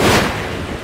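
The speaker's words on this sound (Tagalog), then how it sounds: "Malalaking alon ang humampas sa baybayin ng Sibulan, Negros Oriental." Large storm waves crash against a seawall on the coast of Sibulan, Negros Oriental, as Tropical Depression Wilma approaches, giving one loud, broad roar of water and wind that slowly fades within a second.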